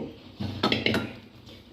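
Chopped banana stem, soaked in turmeric water, is tipped into a metal pressure cooker pot, giving a few sharp, close clinks and scrapes of utensil on metal in a short, quiet kitchen moment.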